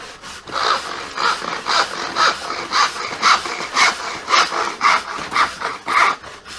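Handsaw cutting wood clamped to a very small workbench: steady rhythmic back-and-forth strokes, about a dozen, close and fairly loud, with no talking.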